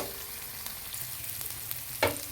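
Onion and garlic frying in a pan for homemade chowmein give a soft, even sizzle, fairly quiet, with light spoon taps and a short clatter near the end.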